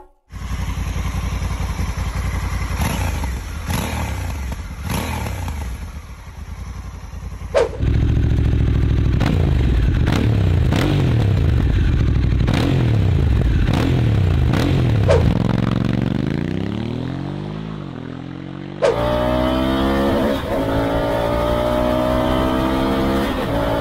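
A large adventure touring motorcycle accelerating hard toward top speed, its engine note climbing through repeated gear changes with loud, sustained revving and rising pitch sweeps, close and continuous with no talking.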